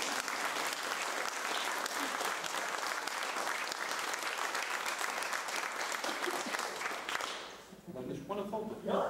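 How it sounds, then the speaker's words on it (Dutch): Sustained audience applause from a seated crowd at a local group presentation, dense and steady for about seven seconds before tapering off as a voice begins speaking at the end. "Uw applaus, appreciatie voor Wendy Mappelberg, Sinave."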